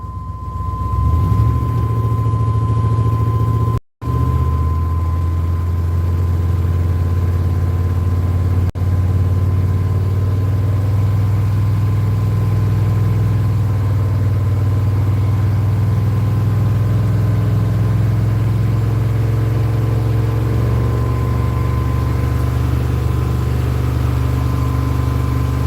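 A Chevy Silverado truck engine, overheating after a water pump replacement, is held at about 2,500 RPM and produces a constant low droning hum throughout. The sound cuts out briefly once near the start.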